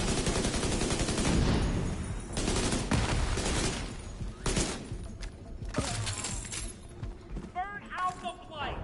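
Blind gunfire in the shooter video game The Division 2, a loud, rapid burst of automatic shots in the first few seconds, followed by scattered impacts and mechanical clatter, with a voice speaking intermittently.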